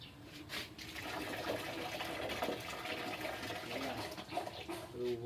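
Water runs weakly but steadily from a newly added faucet fitted with PE compression pipe, a continuous close splashing rush lasting the whole stretch with no talking.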